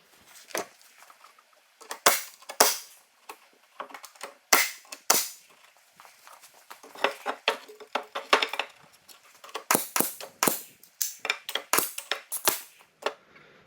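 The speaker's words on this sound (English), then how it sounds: "I was using like a 3 1/4 inch nail with the nail gun for the framing part" Nail gun shooting 3 1/4 inch framing nails into wood while a hunting blind is built: a long irregular series of sharp, loud, close cracks, some single and some in rapid clusters.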